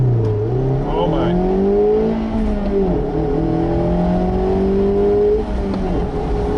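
A car accelerates hard through a timed launch run with traction control on, its engine note climbing steadily in pitch through the gears, loud and close, with brief excited voices over the roar.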